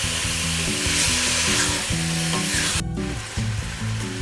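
Beef browning in a hot pan for goulash sizzles loudly and steadily, with a strong frying hiss and a brief drop partway through, all under background music.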